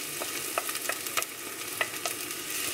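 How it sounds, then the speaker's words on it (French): Onions dropped into hot oil for a seafood risotto crackle in a steady close sizzle, dotted with light clicking stirs of a utensil against the pan, no talk. "Voilà, l'huile est chaude. On commence par les oignons."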